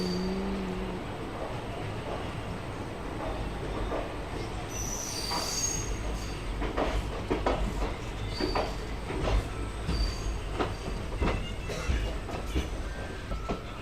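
An Indian Railways passenger train running on rails between Trichy and Thanjavur gives off a steady, loud rolling rumble for the whole stretch, with high wheel squeals and clanks rising through the middle and later part.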